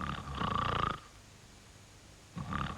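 A narrator imitates Mr Noisy's loud snoring with his voice, a long rough drawn-out snore followed by silence and the start of another snore at the end.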